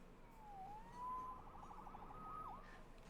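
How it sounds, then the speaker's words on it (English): A police siren wails faintly in the distance in a New York City game setting, with rising and falling tones, low under steady ambient noise. "Saved by the siren."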